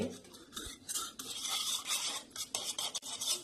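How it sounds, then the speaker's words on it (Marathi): Cornflour being stirred into full-fat milk in a bowl for eggless kharvas milk pudding, a steady close-up scraping and swishing of a utensil against the dish, continuous and fairly loud with no talk. "त्याच्यात आता मी हे कॉर्नफ्लॉर टाकते बघा कॉर्नफ्लॉर एकत्र करून घ्यायचे"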